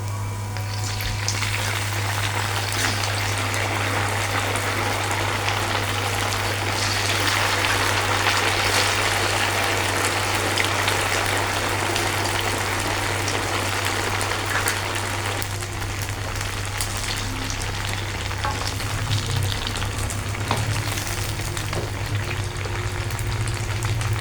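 Oil sizzles and crackles continuously at close range as kue gabin pastries fry, a dense frying hiss that swells in the middle and settles again, with no talking.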